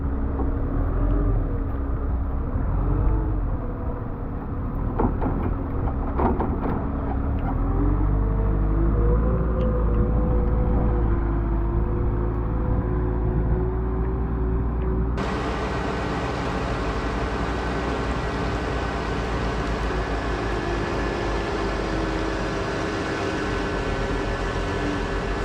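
A Giant G2700HD compact wheel loader drives up a pile and scoops, its engine a loud steady rumble that shifts pitch as it works, with the sound turning brighter and more open partway through.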